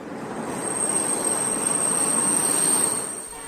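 Train entering Vizag station, a continuous loud rumble of wheels on rails with a thin high squeal running throughout, swelling and then easing toward the end, no voices.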